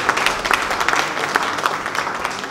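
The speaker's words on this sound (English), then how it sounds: "Let's give her another round of applause." Workshop audience clapping for a presenter, a brisk, fairly loud burst of many hands that holds steady throughout without voices over it.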